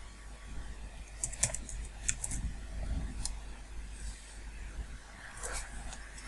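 Someone types a display name on a computer keyboard, producing a few quiet, sparse key clicks in short bursts over a low, steady room hum.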